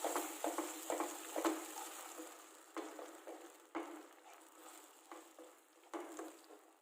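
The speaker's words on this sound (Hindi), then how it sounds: "इसको थोड़ी देर के लिए भून लेते हैं" Vegetable Manchurian gravy with tomato ketchup simmers and fries in a pan, a faint bubbling sizzle punctuated by soft, periodic stirring scrapes, with no voices.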